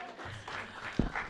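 An audience at a labor organizing session claps briefly and faintly. A few scattered claps rise out of low room noise in just over a second before dying away.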